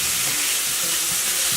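Steak hits a hot pan of softened onions for a noodle stir-fry, setting off a loud, steady, close sizzle and hiss that continues without a break.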